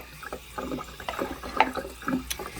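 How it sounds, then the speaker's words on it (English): Cold water runs from a tap over sea moss being rinsed to clear away salt and small bits of sea debris, a steady soft splashing stream with a few louder sputters near the middle. "I have my cold water running,"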